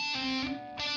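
Two notes on an electric guitar, a pull-off from D down to C, played semi-clean through distortion with delay, each note ringing bright and sustained with its echo trailing behind.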